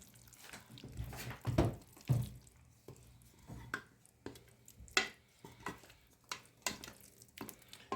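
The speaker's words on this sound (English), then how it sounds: "Let's pour in our bacalhau with com natas, bacalhau with sour cream." Bacalhau com natas, a Portuguese codfish bake with sour cream, is poured into a baking dish: a series of close, sharp clinks and scrapes of utensil and dish over a quiet kitchen background.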